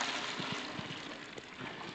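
Water, 4.5 gallons, pours steadily into a closed mash tun during home brewing, a continuous faint rushing with a soft churning undertone.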